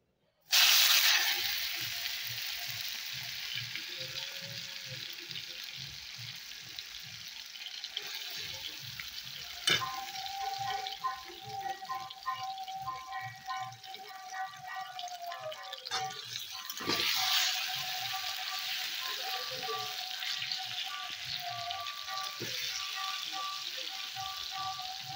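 Tomatoes fry in oil in a wok with a continuous crackling sizzle, punctuated by a few sharp clatters of stirring and a faint tonal whine in the background.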